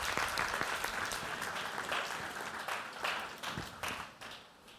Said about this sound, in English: Give us a hand clap.